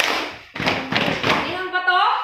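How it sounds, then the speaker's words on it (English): Children in a science classroom give a group 'dhamma clap', a loud burst of rhythmic, slightly ragged claps and thumps close by, with voices calling out over the claps toward the end. "May we give them a dhamma clap?"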